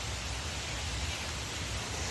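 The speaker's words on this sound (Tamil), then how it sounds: "மழை பெஞ்சிட்ருக்குது பாருங்கள் எப்படின்ட்டுன்னு." Steady rain pours outside on a dark morning, a continuous even hiss of falling drops with no breaks, moderately quiet.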